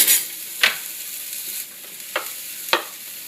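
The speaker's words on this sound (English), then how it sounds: "while I'm sauteing vegetables" Steady sizzling of onions sautéing in a pan, with a few sharp scrapes of a utensil stirring at irregular intervals.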